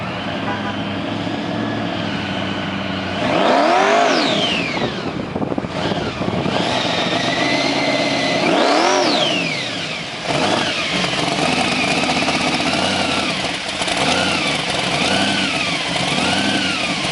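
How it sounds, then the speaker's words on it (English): A Mazda 787B replica race car with a five-rotor engine revs hard twice in sharp rising-and-falling surges, loud and close, then keeps burbling and blipping between shorter throttle pulls. "this beast, it's based on a Mazda 787B, rocking a glorious five-rotor engine"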